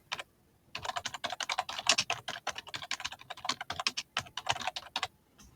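Rapid, steady typing on a computer keyboard while renaming a share link, a dense run of close, crisp keystrokes lasting several seconds after a brief pause, with no talk.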